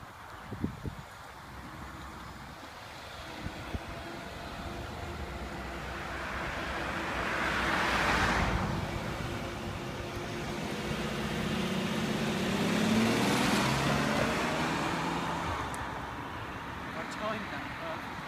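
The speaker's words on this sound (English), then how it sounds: "The only good car just left pretty quickly" A car pulls away from a car show, its engine and road noise swelling and fading under broadband wind and crowd noise, with Porsches left behind and no clear speech.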